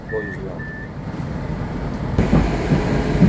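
A metro train arrives at a Tashkent underground station, its low rumble building steadily with some brief tonal squeals early on.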